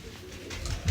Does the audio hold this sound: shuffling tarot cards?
no